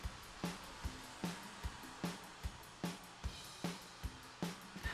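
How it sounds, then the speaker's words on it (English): A hand mixer creams butter and sugar together for a caramel cake, a steady motor whir broken by regular thumping knocks of the beaters against the bowl, close and moderately quiet, with no talking. "Now I happen to use a hand mixer here"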